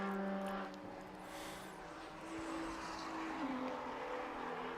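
BMW 135i race car number 218 passes on the Knockhill circuit during a time attack racing event, a distant engine roar that swells and fades beneath steady outdoor track noise, with no voices audible.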